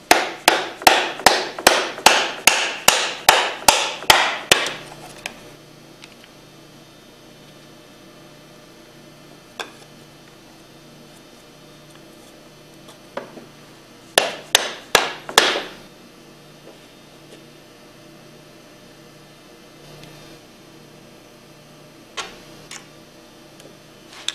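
Rapid, sharp hammer taps drive parts into a Hypro 2535S triplex plunger pump with a PVC pipe and a cup spreader, a run of about ten close blows followed by scattered single knocks and a second short burst.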